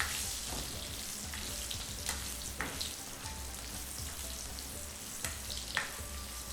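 Potatoes frying in oil for quick masala aloo, a steady low sizzle with a few sharp stirring clacks scattered through it, close and fairly quiet, with no talking.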